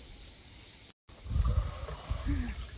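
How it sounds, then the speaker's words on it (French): Cicadas in a summer garden in southern France, a steady high-pitched buzzing drone that continues throughout with a brief dropout, while low background sounds move underneath. "vous entendez les cigales?"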